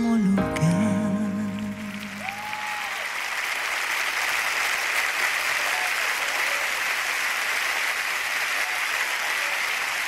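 An audience applauds at a tribute to Chespirito, loud, sustained clapping from a large crowd that swells after a brief musical tone and keeps going steadily to the end.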